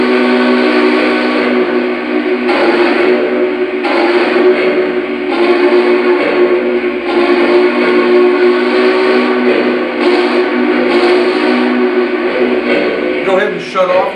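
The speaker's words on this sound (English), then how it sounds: "Just lay on the whistle, it'll come out." A Vision Big Boy model steam locomotive blows a long, steady whistle at close range, held for many seconds with slight pulsing and a faint mechanical rattle beneath it.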